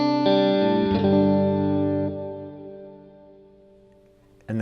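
A distorted electric guitar chord rings out through a Fender Marine Layer reverb pedal with damping off, its bright high overtones lingering as the heavy reverb tail slowly fades, before a new strum cuts in at the end.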